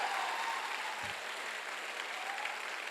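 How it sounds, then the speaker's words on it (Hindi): A crowd applauds steadily, a continuous wash of clapping that stays even throughout. "एक जोरदार तालियां जबरदस्त वाली।"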